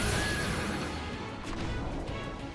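A summoned horse in the video game Final Fantasy X gives a loud, bright whinny over dense game music and effects, with the cry fading into the background noise after about a second.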